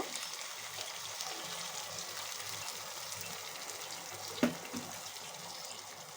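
Broth pours steadily into a pan of braised carp cooked with lemon, a faint, even wash of liquid with one soft knock near the end.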